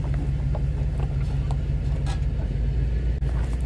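A vehicle engine runs steadily at close range as it is driven and backed up, with a continuous low rumble and no speech.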